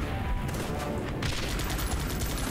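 Dense artillery and gunfire barrage in the multiplayer strategy game Guns Up!, a continuous roar of overlapping shots and booms with a sharp burst partway through.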